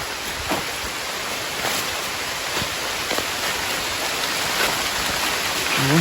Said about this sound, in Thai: ฝนลงมิดละ